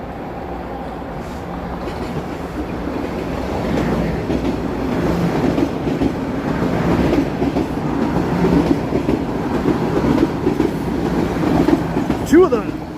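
Two trains rumble past in a Toronto city setting on a mild evening, a loud, close, building clatter of wheels on rails with a brief wheel squeal near the end.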